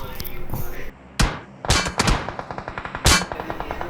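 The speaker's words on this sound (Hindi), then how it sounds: "अपार्टमेंट से क्या ही फायर होता है हमारे ऊपर।" Gunfire from an apartment building in the PUBG game on the Erangel map crackles in short bursts and single cracks, with a rapid string of shots toward the end, mixed with game effects.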